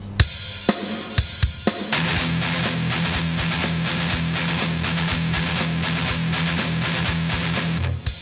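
Metal guitar chugs a reverse gallop rhythm, two sixteenth notes plus an eighth, over a steady drum track; a few muted picks open it before the full band-like groove runs loud and continuous to the end.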